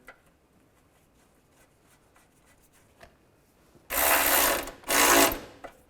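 Ratchet wrench tightening a bolt during serpentine belt work on a 2005-2010 Chevrolet Cobalt: two loud, close bursts of rapid clicking, each about a second long, after near silence.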